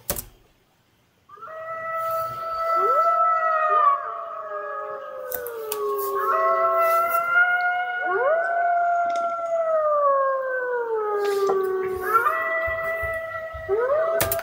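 Drawn-out, wavering wolf-like howls overlap in several long rising and falling tones, loud and close, with no talking; the howls also resemble a caterwauling cat.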